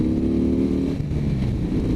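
A 2014 Harley-Davidson CVO Breakout on a test ride, its engine rumbling steadily at low gear with a deep throaty drone, close and continuous, no voices.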